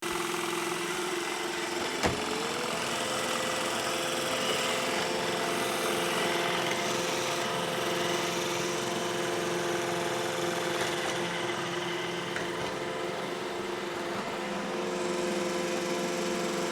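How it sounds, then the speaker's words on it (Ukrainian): A robot vacuum cleaner gives a steady mechanical whir with a constant motor hum, running continuously at an even level throughout with no speech. "послухаємо, як звучить робот пилосос"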